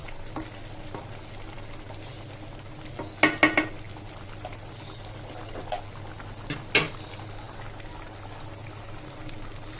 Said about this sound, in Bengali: ফুটে ওঠার পরও সিদ্ধ হওয়ার জন্য কিছুটা জল আছে এই জলটাতে ডিমটা সিদ্ধ হয়ে যাবে